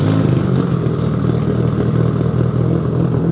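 A car engine runs loud and steady for the whole stretch, with a rough low rumble and some clatter but no clear rev peaks.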